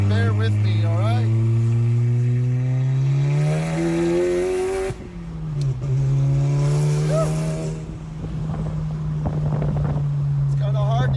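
A Volkswagen MK7 GTI with an exhaust cutout is heard from inside the cabin with the windows down, its loud engine note rising through the gears, dipping at a shift, then climbing again amid wind rush.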